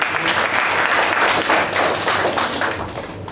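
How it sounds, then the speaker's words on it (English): Applause at the close of a speaking club meeting, fairly loud and close, dense clapping from a modest group with distinct individual claps, easing off toward the end. "Give him a big round of applause."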